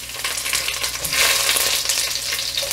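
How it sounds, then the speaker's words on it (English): Onion sautés in hot oil with fenugreek seeds for curried cauliflower, a strong close hiss of frying that swells slightly midway, with light stirring and no one talking. "You saute this onion until it starts getting a little brown to the edges"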